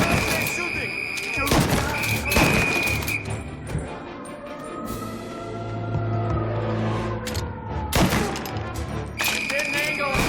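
Gunfire crackles in a Mafia: Definitive Edition shootout, with bursts of shots loud and close over a continuous dense game soundscape and other action noise.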